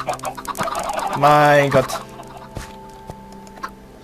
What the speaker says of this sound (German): Es sind die Hühner.